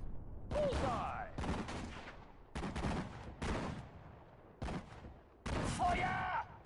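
Bursts of machine gun fire and explosive gunfire from a war video game, several loud volleys separated by short gaps, with game voice callouts mixed in.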